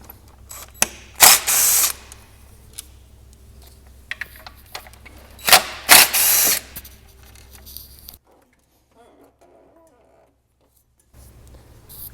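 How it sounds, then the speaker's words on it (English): A hand ratchet works two 10mm bolts loose on the intercooler of a 2016–2021 Honda Civic, giving quick close-up clicking bursts and sharp metallic rattles, then a near-silent pause. "And then remove these two 10mm bolts."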